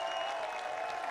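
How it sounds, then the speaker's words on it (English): A small ballpark crowd of about two thousand at an Oakland Ballers baseball game applauds and cheers in a faint, distant, steady ovation, heard briefly without talk. "Huge ovation for Gabe Tanner."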